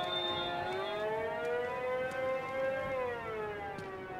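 Police car siren from the Batman: Arkham Knight video game, a loud, steady wailing tone that rises and falls slowly and continuously, heard alone for about four seconds.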